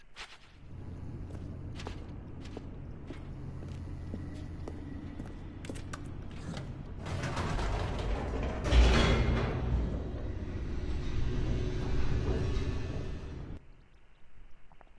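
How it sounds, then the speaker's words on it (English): Elevator in The Stanley Parable hurtling downward, a steady mechanical rumble with creaks and clanks that swells into a louder whooshing roar midway before cutting off, no voices. "The elevator raced downward, plummeting towards an unknown fate."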